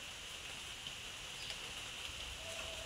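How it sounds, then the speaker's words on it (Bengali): Steady, soft hiss of light rain falling outside, even and continuous with no voices. "দেখো ঝিরঝির করে বৃষ্টি পড়ছে"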